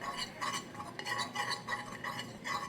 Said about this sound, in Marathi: सो पयलीं एकाने बरें मिक्स करून घ्या.